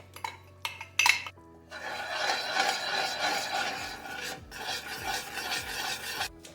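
Cold butter crumbs dropped into a pot of pan sauce for Ukrainian braised pork with prunes, then stirred with a utensil, a few clinks against the pot followed by steady scraping and rubbing strokes.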